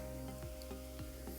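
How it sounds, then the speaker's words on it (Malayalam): Onions, two dried red chillies and curry leaves sautéing in coconut oil, a faint, even sizzle with soft periodic stirring scrapes over a steady background hum. "ഇത്രയിട്ട് നന്നായിട്ടൊന്ന് വഴറ്റാം"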